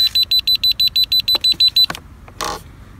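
A K110S RC helicopter transmitter buzzer sounds as it switches mode: eleven short, evenly spaced high beeps in quick succession, followed by a few soft clicks and handling noises.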